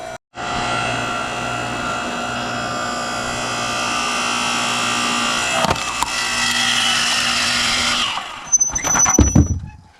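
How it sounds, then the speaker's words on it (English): A small log splitter working through a block of firewood at a cabin: a steady droning motor whine with a high squeal holds for about eight seconds, then gives way to a few sharp cracking bursts near the end as the wood splits. "Little splitter should be able to drop half right into the sleigh."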